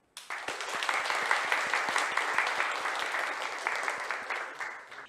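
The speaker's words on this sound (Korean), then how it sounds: "큰 박수로 환영해 주시기 바랍니다" An audience at a university lecture hall applauds to welcome a professor, with lively, steady clapping from a moderately sized crowd that starts abruptly and carries on evenly.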